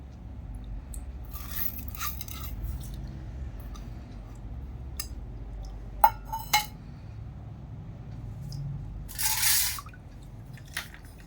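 Sabudana (sago) being rinsed in a strainer: quiet background water with a few scattered drips, light clinks and a brief splashy burst near the end, faint and intermittent.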